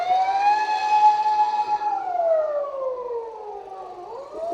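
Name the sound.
ambulance siren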